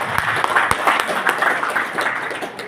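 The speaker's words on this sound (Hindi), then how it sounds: "सबके लिए तालियां।" Loud, close audience applause at a national community conference and award ceremony, dense clapping with distinct individual claps standing out, continuing steadily for a few seconds.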